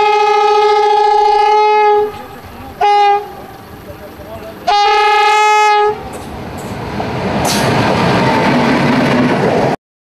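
A train passes a level crossing without barriers, sounding its horn in several long, loud blasts, then the heavy rush and rumble of the cars grows as it passes close by before cutting off abruptly.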